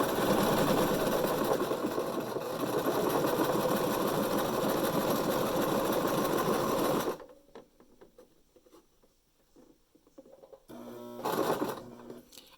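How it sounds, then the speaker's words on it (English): A sewing machine runs a straight stitch in a steady, loud mechanical whir for about seven seconds, then stops, leaving quiet handling noise before a short second burst of stitching near the end. "I'm going to switch back to a straight stitch, and I'm going to just run that, pull as tight as I can"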